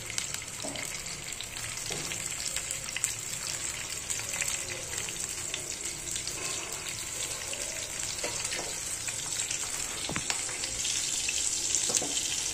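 Green chillies fry in ghee in a pan with a steady, close sizzle that runs throughout, with faint stirring and scraping mixed in.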